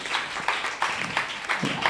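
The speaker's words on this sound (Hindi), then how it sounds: "आपकी तालियां बताएंगे आपकी।" A church congregation at a Sunday service applauding, a few rhythmic bursts of group clapping in quick succession, moderately loud and close.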